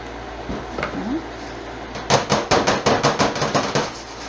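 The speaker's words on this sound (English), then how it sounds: "Bang it down because I don't want any air pockets." A filled soap mold of cold process banana pudding soap is banged down on a hard surface, about ten rapid, loud thuds in a row after a quieter stretch of handling noise.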